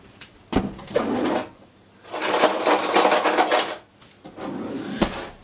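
Crepe batter of flour, salt and a little milk is stirred into a thick paste in a bowl, heard as three scraping, swishing bursts of mixing separated by short pauses and a few knocks, close by, with no talk.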